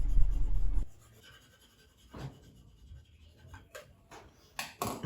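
A hand plane trimming the sides of a wooden box on a shooting board, heard as several short, close, rasping strokes separated by quiet pauses, with a quick cluster of strokes toward the end.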